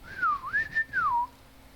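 A person whistles a short, wavering tweet that rises and falls in pitch, mimicking a bird call, heard up close and alone.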